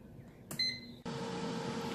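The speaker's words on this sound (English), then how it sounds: "I'm using this Gourmet air fryer. Set the temperature to 370 and timer to 20 minutes." A Gourmet air fryer set to 370 degrees starts up with a few short beeps, then settles into a steady, close fan whir that runs evenly without any voices.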